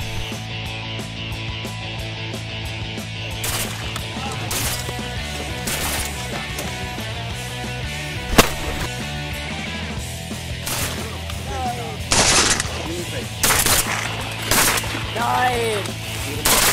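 Shotgun blasts during a teal duck hunt in Texas, heard as a few sharp reports later in the clip over steady outdoor background noise.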